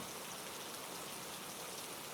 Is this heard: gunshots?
no